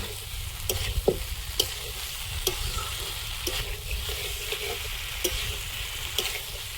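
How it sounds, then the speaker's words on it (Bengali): Cauliflower frying with spices in a pan, a steady close sizzle broken by a series of sharp scraping stirs of a spoon against the pan at irregular intervals, with no talk. "ফুলকপি দিয়ে দেবো ভালোভাবে মশলার সঙ্গে মাখিয়ে নেব"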